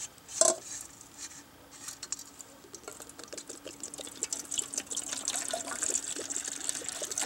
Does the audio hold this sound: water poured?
yes